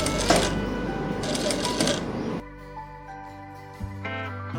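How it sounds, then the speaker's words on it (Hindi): A sewing machine stitches an overlap neck design on fabric in two quick, rattling bursts, then falls quiet as background music carries on. "तो यहाँ से सिलाई चला दोगे आप।"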